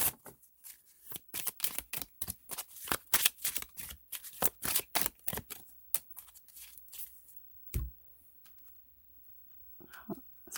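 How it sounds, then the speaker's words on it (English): Tarot cards shuffled and shifted about during a reading, a rapid run of crisp papery riffles and slaps that ends in a sharp thump and a few softer card movements, with no talking. "So I move all the cards."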